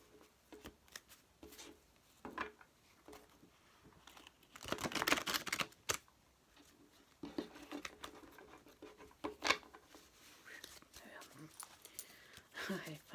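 Tarot cards being split and shuffled into piles, giving a run of soft papery slaps and riffles with a louder burst in the middle, all close and fairly quiet.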